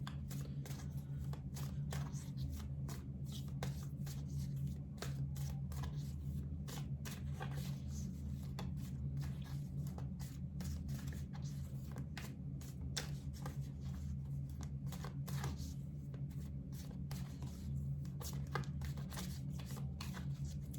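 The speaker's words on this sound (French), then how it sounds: "on va déjà battre les cartes" A deck of playing cards is shuffled over and over, a faint, continuous riffle of quick crisp flicks and slides close by with no talking.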